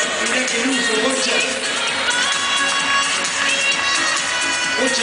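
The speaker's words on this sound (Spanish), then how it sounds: "¡Fuerte aplauso, por favor!" A large crowd honours Argentine football legend Ricardo Bochini with a dense, continuous wall of applause and cheering, loud and even throughout, with shouts scattered through the roar.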